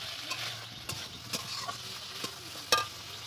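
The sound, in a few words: soybean and potato being stir-fried in a pan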